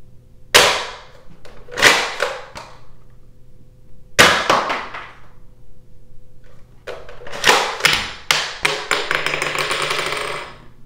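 A mini Rheinmetall MG3 dart blaster, manually loaded, fires a series of sharp snapping shots with mechanical clacks, first a few spaced bursts, then a denser cluster of rapid clicks near the end, close and fairly loud.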